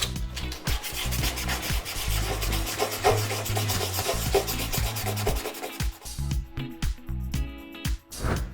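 A white leather shoe is rubbed with 800 grit sandpaper in quick, close back-and-forth strokes, a continuous scratchy rasping that keeps a steady rhythm and then breaks into shorter separate strokes near the end.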